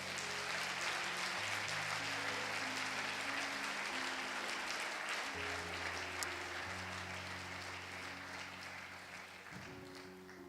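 A church congregation applauds during a sermon, a dense, sustained wash of clapping from a large crowd with organ or keyboard chords sounding underneath throughout.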